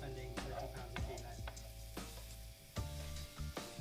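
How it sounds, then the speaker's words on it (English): Mushrooms frying in a pan, with a soft continuous sizzle broken by several sharp clacks and scrapes of stirring, fairly quiet with light voices in the background. "So once we get a bit of colour on our mushrooms, which will be about 2 minutes into the frying process"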